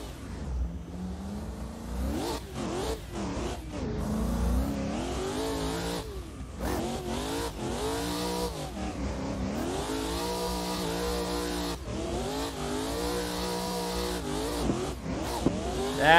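A BMW E36 drift car on a handbrake-entry run at Lake Erie Speedway, its engine revving up and down through rising and falling pitches, loud and close, with tire squeal woven in.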